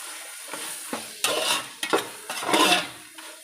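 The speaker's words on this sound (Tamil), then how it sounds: "கிளறிக்கணும்." Masala for biryani stirred in a hot pan, a spoon scraping and clattering against the metal in irregular strokes over a steady sizzle of frying, close and fairly loud with no talk.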